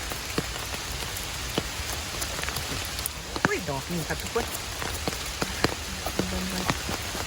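Steady rain patters on leaves and the forest floor while sweet bolete mushrooms are picked outdoors, with scattered sharper drops throughout and a person talking briefly over the rainfall.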